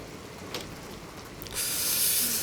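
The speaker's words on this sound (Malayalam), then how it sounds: "എന്തൊരു തണുപ്പാടാ, എന്തൊരു മഴയാ" Heavy, cold rain sets in as a dense, steady hiss that swells suddenly partway through and then holds loud and unbroken.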